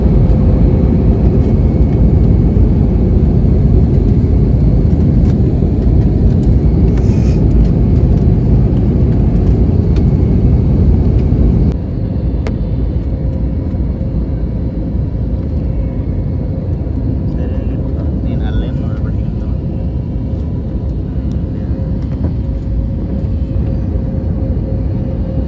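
Inside a passenger airplane in flight, the engines give a constant, heavy cabin rumble that runs unbroken throughout, with a voice talking over it.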